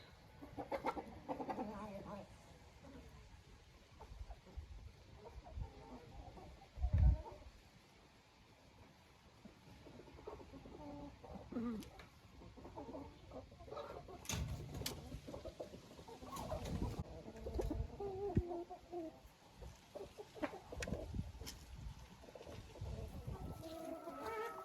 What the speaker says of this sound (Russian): Вот такая помесная и шелковая черненькая курочка.